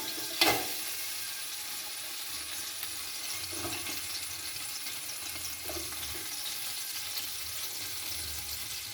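Chopped garlic frying in half a cup of sunflower oil for chicken mandi, a steady faint hiss and sizzle throughout with a sharp clack near the start and occasional soft stirring scrapes.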